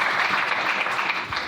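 A congregation in church claps together during a French-language Sunday service, giving sustained loud, even applause from many hands with no pause.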